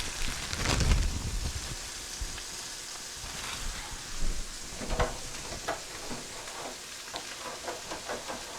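Smash burgers sizzling in a little butter on a hot griddle, a steady broadband frying hiss with a few louder pops and crackles near the start, heard up close with no talking.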